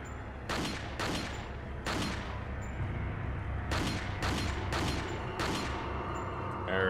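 Sniper rifle shots in Resident Evil 4, about eight sharp, loud reports spaced irregularly about half a second to a second apart, each ringing out over a low game ambience with no talk.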